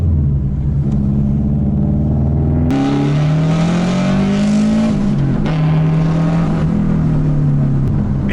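A tuned Subaru engine with big power mods revs hard on a street pull, loud and close, rising through gears with steady climbing drone and shifts, no talking.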